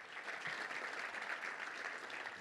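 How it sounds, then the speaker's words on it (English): A room of people applauds 5th and 6th grade players standing at a Little Rock Touchdown Club meeting, the clapping dense and steady throughout, loud and close with no voices over it. "Let's give you a round of applause."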